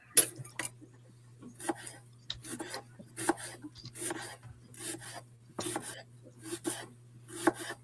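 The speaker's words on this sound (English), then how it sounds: "that's the sound of a knife cutting onions" A knife chops onions on a cutting board in rapid, uneven strokes that sound like scraping, fairly quiet against a low steady hum in the background.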